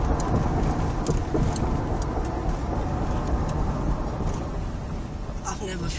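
A stock 2002 Ford Lightning pickup's engine roars loudly and steadily under hard acceleration, a dense broadband drone that barely changes across the whole stretch.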